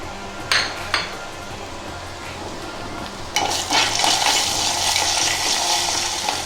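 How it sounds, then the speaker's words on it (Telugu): A tempering of curry leaves and onion pieces frying in hot oil: a couple of sharp clinks from a utensil first, then a loud, steady sizzle bursts up as the ingredients hit the pan and keeps crackling. "చారు ఇలా వేగుతుంది, తాలింపు ఇలా వేగుతుంది. వేగేటప్పుడు ఇందులో కొంచెం కరివేపాకు, ఉల్లిపాయ ముక్కలు కూడా వేస్తున్నాం."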